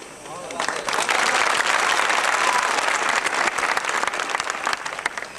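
Applause erupts from a crowd gathered for a religious speech, starting after a brief quiet moment and then swelling into dense, sustained clapping that holds steady before slightly thinning toward the end.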